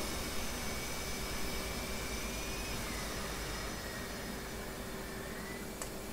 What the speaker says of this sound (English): Alright, both engines running.